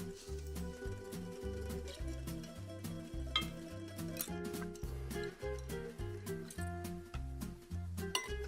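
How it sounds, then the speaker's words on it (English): Sugar is whisked by hand into a dessert mixture in a bowl, giving a quick, rhythmic scraping and clinking of whisk against the bowl that continues steadily, close but fairly soft. "Then just whisk the sugar in. Really get in there, making sure it's fully combined."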